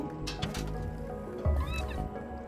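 A cat in the video game Stray gives a short meow over a busy, continuous game soundscape with low rumbling and other effects, the call standing out briefly near the middle.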